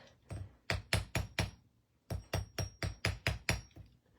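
Repeated hammer blows while shaping a beaded plant stake, two quick bursts of sharp, close metallic strikes, about five then eight hits in a steady rhythm with a short pause between.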